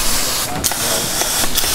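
A firefighter's charged hose line sprays water, bleeding air from the line during cadet training, giving a loud, continuous, broad hissing rush with a few brief bursts.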